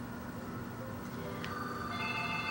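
A telephone rings indoors with thin electronic tones over a steady background hum, growing clearer and more sustained toward the end.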